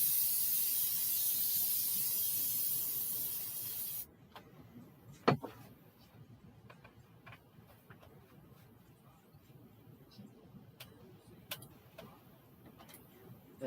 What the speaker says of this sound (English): going to spray my pan one more time.